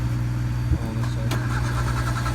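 Cold start of a vehicle engine, a brief crank catching into a steady mid-pitched idle that holds at close range.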